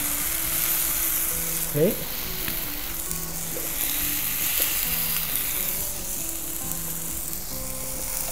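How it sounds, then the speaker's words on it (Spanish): Goat cheese and gnocchi sizzle steadily in a frying pan, a loud continuous crackle with brief scraping stirs, while a person speaks over it. "el queso va a empezar a fundirse, se va a empezar a salir un poquito la grasa hasta que se nos forme esa costrita"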